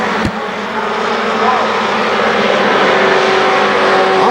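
The number 6 race car at KilKare Speedway drones loudly past on the track, its engine running badly with a rough, sustained note, with an announcer's voice faintly underneath.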